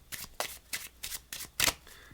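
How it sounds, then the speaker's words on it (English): A deck of cards is shuffled in six quick riffling bursts, close and crisp, each a short flutter, with the last one loudest. "give the deck a few shuffles"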